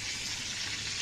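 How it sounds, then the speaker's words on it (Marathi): Meat pieces frying in hot oil at a New Year's Eve party, a dense continuous sizzle, steady and fairly close throughout the short stretch, no voices. "हळूहळू तळा."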